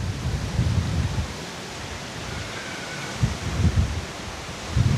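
A strong storm wind roars steadily outdoors, rising into heavier low gusts near the start, around the middle and at the end, with no talking.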